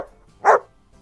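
A single short dog bark, fairly close and clear, standing alone against a quiet background.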